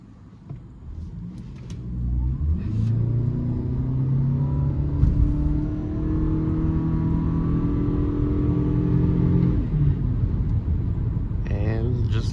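A 2024 Toyota Venza hybrid in sport mode with traction control off accelerates from 0 to 60, a rising engine and electric-motor drone building steadily from a quiet start, heard from inside the cabin, then easing off near the end.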